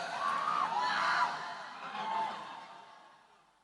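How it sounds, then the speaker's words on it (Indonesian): Crowd at an outdoor religious gathering (pengajian) in a Mojokerto village, cheering and clapping for the deputy regent; a broad swell of noise that peaks, rises again briefly and then fades away. "tepuk tangan untuk beliau"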